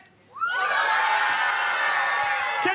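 A crowd of boys at a stage comedy show bursts into loud, high-pitched cheering and shrieking that starts abruptly and stays at full volume.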